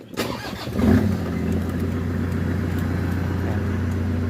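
A 2008 Toyota Vigo pickup started by push button: a brief cranking whir catches and the engine settles into a steady, close, even idle rumble.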